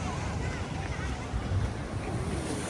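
Ocean surf at Rock Beach, Puducherry, rumbles low and continuously with heavy wind buffeting the microphone, a broad, rough wash of sound that never breaks and has no clear individual wave crashes.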